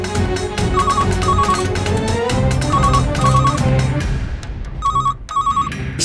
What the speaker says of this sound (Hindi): शायद उसी का फोन है।